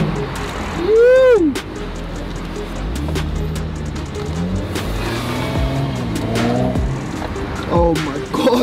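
A wrecked Audi S5 Sportback, flipped and rebuilt, revs and accelerates hard on its first drive, the engine note climbing in pitch close by while excited voices whoop over it.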